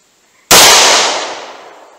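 .38 Special revolver fired single action from a 2-inch barrel: one sharp, loud gunshot with a long ringing decay, alone after brief quiet.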